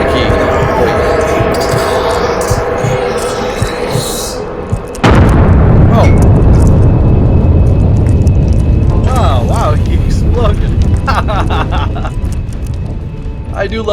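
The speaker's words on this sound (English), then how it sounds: "I do love a good explosion." A loud explosion goes off in the video game The Great Work, a sudden broadband blast followed by sustained rumbling and crackling debris, with someone talking over the game sounds before and after it.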